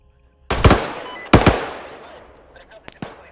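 A 30mm cannon fires in the Arma 3 military game in two heavy, booming bursts, each trailing into a long rumbling decay, followed by a sharper distant crack, with people talking alongside.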